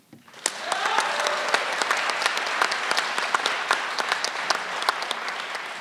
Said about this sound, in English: I'd like each candidate to, give applause to each candidate once again